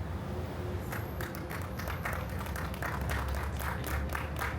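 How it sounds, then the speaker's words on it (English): An audience applauds during a keynote speech at the Kingston Gateway groundbreaking ceremony, sustained scattered clapping from many hands over a low steady background rumble, moderately loud throughout. "the people who applaud, they understand what I'm saying"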